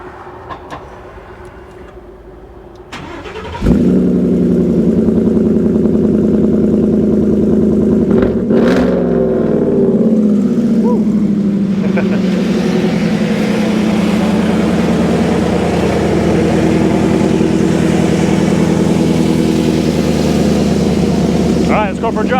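A 1949 Ford F-1 restomod truck with a Coyote engine starting up and revving: quiet idle, then a loud steady engine drone with a sharp rev midway, continuing close and strong.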